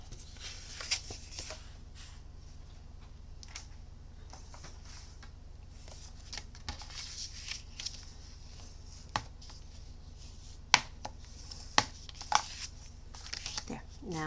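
A well-used paper trimmer slices cardstock with soft sliding and scraping, then a few sharp clicks and crisp cuts near the end, close and fairly quiet.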